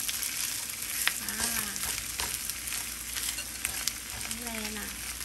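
Homemade hash browns fry in a pan with a steady, close sizzle and crackle, a few faint tones sounding over it.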